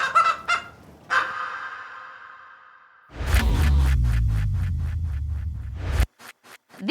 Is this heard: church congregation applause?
no